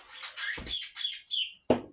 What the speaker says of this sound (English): if you can hear my budgie in the background